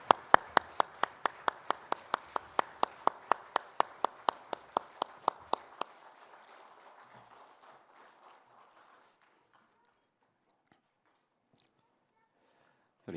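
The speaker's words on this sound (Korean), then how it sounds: "하나님께 영광의 박수 함께 올려드리겠습니다" Congregation applauding in a church during a Sunday worship service, about two dozen sharp, evenly spaced claps in quick rhythm, then a softer scattered patter that fades into silence.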